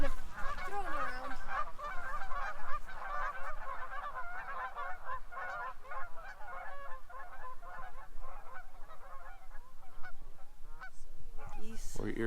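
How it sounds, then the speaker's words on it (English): Geese honk continuously and loudly nearby in an outdoor rural setting, a busy overlapping chorus of nasal calls lasting throughout, with a little voice mixed in. "Geese. We're irritating the geese."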